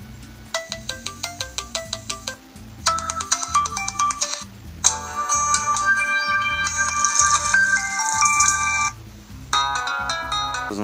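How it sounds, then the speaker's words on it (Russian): A Kingzone S2 smartphone plays several ringtone melodies through its loudspeaker, loud and clear, each a bright chiming pattern with short gaps between them and no talking. "Ну, послушаем, насколько громко у нас звучит телефон."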